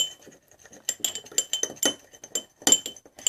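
Homemade deodorant made from coconut oil and other household ingredients being stirred in a small container, with light irregular clinks and scrapes of a utensil against glass, close and clear.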